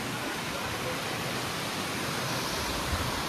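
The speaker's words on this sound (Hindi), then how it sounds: "ये है सीक्रेट वाटरफॉल यहाँ का" Steady, dense broadband roar of a hidden waterfall near Rishikesh, constant and loud without a break.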